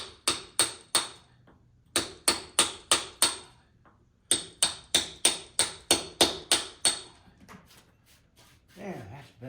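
Hammer striking a chisel into wood, loud sharp blows in quick rhythmic runs of about five, a pause between runs, then a few fainter taps and some voice near the end.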